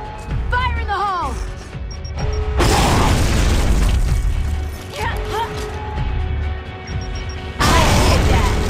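A grenade explodes in the Gears of War Judgment video game, with loud broadband crashing blasts mixed with mechanical clatter and gunfire, under excited shouted talk.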